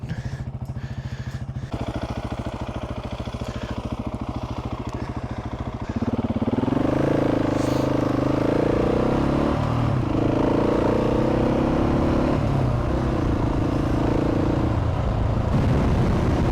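A luggage-laden motorcycle rides an offroad outback track between Coonabarabran and Dirranbandi. The engine drones steadily and close throughout, growing louder and rougher partway through as the bike pushes on, with rattling over bumps.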